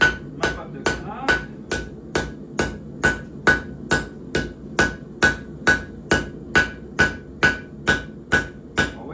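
Hammer striking hot steel while forging a knife, about twenty sharp ringing blows in a steady even rhythm, loud and close with a metallic ring after each hit.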